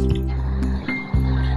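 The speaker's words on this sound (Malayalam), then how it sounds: "അപ്പൊ നമുക്ക് കുറച്ച് വെള്ളം ഒഴിക്കാം" Water is poured into a cooker over tapioca pieces seasoned with turmeric powder and salt, a loud splashing pour with a brief break partway through.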